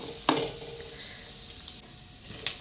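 Finely chopped onion, chopper-minced, sizzling in a pan with ginger, garlic and chilli for a mushroom curry, a soft steady fry with a sharp clink near the start and light stirring, fairly quiet.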